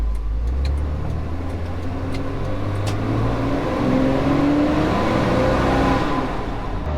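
Loud, steady road noise from a Jeep cruising at highway speed, with engine drone and wind rumble swelling slightly midway; no talking.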